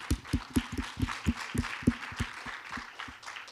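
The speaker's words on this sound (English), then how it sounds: "Round of applause for you." Summit audience applauding startups, scattered hand claps, fairly faint and distant, with irregular individual claps standing out against a soft background crowd.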